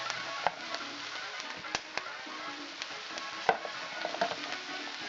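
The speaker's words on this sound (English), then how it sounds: "This is onion and red pepper and green pepper, all going to be sauteed." Onion with red and green peppers sauteing in a pan over lowered heat, a soft continuous sizzle broken by occasional sharp clicks and stirring scrapes, close and moderately quiet with no talk.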